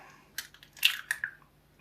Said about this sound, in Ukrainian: Розбиваємо туди три яйця.